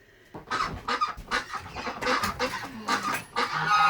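Chickens cluck and murmur continuously inside a chicken shed on a winter morning, several birds close by in overlapping bursts with no talk.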